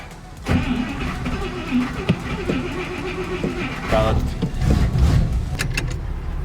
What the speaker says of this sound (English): We're gonna start the Buick, guys.